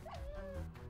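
Dogs in the Minecraft video game give a brief, faint, high whining whimper that slides in pitch, lasting under a second.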